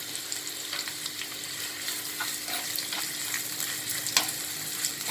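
Thinly sliced onion frying in hot oil in a pan, giving a steady bright sizzle with occasional stirring scrapes and pops.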